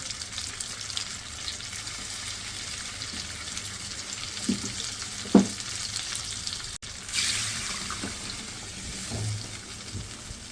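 A steady sizzle of masala in a pan gives way to a sudden rush of about a glass of poured water hissing against the hot surface, then a quieter bubbling simmer.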